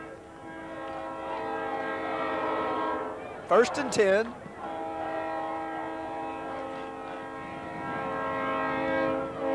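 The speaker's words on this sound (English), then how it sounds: "listen to the beautiful train coming by Bobcat Stadium" A train horn blasts loudly for about a second amid steady rail rumble as a train passes Bobcat Stadium during a 1987 Sam Houston State vs Southwest Texas college football game, with a commentator talking before and after it.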